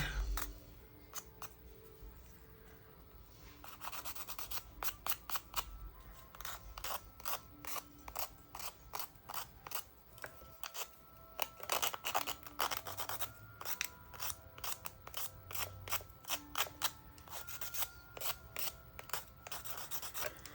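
Dried flower UV resin earrings being sanded by hand, giving rapid repeated scratchy rasping strokes in quick bursts, close and fairly quiet, with no talking.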